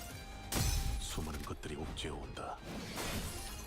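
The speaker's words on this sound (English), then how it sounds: "It's shattering!" Glass-like shattering from the Limbus Company video game: a loud burst of breaking and crashing, followed by scattered debris-like tinkles and whooshes, all under fast excited talk.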